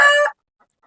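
A brief, loud chicken call from birds kept on a poultry farm, lasting a fraction of a second up close before cutting to silence.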